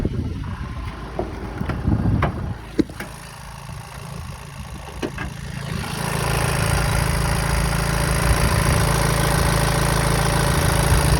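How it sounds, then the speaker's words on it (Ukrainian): A car engine idles steadily and evenly after a few clicks and knocks, a smooth low rumble holding constant. "Послухаємо, як працює мотор"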